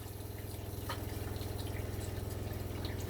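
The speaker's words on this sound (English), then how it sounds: "Let that run until we get a nice steady stream of clear water coming out." Hot water runs steadily from the bathroom sink faucet of a Winnebago View RV during de-winterizing, a continuous close hiss and splash with no pauses.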